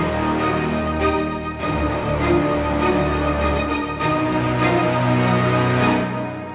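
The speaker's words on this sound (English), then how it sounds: "Low ensemble, here it is from Novo." A Heavyocity Novo low string ensemble plays a sustained, dense and dark passage. It is loud and continuous and swells slightly over several seconds before it fades.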